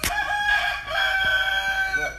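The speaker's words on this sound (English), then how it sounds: "Is that a fighting rooster in the background?" A fighting rooster crows loudly in the background during outdoor jambalaya cooking, one long drawn-out call with strong harmonics lasting about two seconds, over a busy ambient backdrop.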